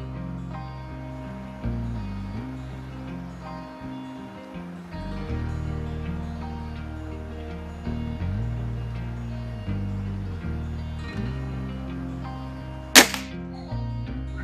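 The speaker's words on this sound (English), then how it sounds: "This will be shot number 4 with the LGU." A single sharp crack from a Walther LGU underlever air rifle rings out near the end, loud and brief against a steady bed of background music.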